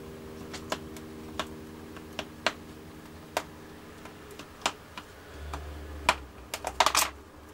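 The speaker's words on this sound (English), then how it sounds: "I'm going to use this first mark along there to score the card." Card stock is scored along a scoreboard tool in a series of sharp, light clicks and scrapes at uneven intervals, with a brief rubbing rustle near the end.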